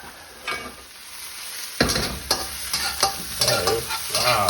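About a teaspoon of Sichuan peppercorns sizzles in a hot pan for Ma Po Tofu, a quiet hiss that turns louder and busier midway as the contents are stirred, with scraping and clattering spoon strokes over the frying.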